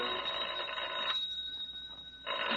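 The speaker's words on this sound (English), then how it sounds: "It's not the door, it's the phone." Old-fashioned telephone bell ringing in a radio drama, two loud trilling bursts separated by a quiet pause with a lingering tone, close and clear with no talking.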